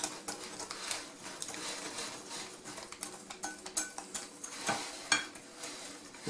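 Batter being stirred into dry ingredients in a bowl while making Strasbourg-style cookies, with soft scraping and clinking of a utensil against the bowl in an irregular rhythm, quiet and close.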